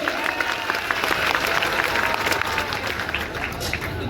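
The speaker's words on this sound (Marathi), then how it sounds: "टाळ्या करा जरा दोन्ही पोरांसाठी" A crowd at an open-air wrestling ground in Sangamner claps loudly for two wrestlers, a dense, sustained patter of applause close and continuous for several seconds, with voices underneath.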